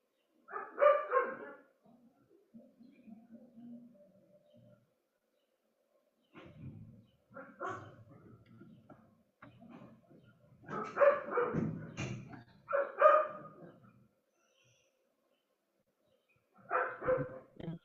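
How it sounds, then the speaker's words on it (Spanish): Small dogs bark in repeated yappy bursts at moderate distance, with stretches of quiet between the volleys and a few softer yips. "Se escuchan los perritos."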